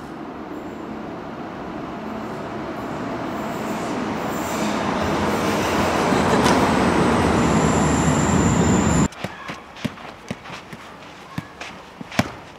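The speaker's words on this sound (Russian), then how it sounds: "Бенедикт спустился в метро города Эссен." A subway train rumbles loudly through a metro station in Essen, the roar building steadily before cutting off, followed by scattered clanks and footsteps in a quieter hall.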